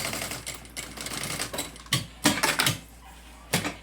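A sewing machine stitching trim on a school backpack: quick mechanical whirring bursts, close and moderately loud, separated by short pauses.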